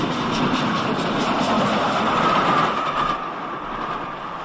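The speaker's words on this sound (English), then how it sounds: "Gordon passes over the viaduct with a casual express." Steam locomotive Gordon hauling an express across a viaduct, a steady close rumble of wheels and carriages rolling past, fading slightly toward the end.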